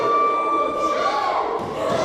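Crowd at a Puerto Rican Hound Dogs wrestling show in New Port Richey, roaring and cheering steadily throughout, a dense, loud wash of voices with shouts rising over it.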